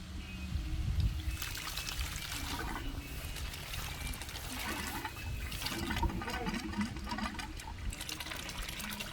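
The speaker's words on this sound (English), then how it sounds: "I can now turn the water on and it'll flush it out." A garden hose runs water through a blocked air-conditioner drain line in southwest Florida, a steady splashing, trickling gush that goes on without a break, fairly faint, with no talking.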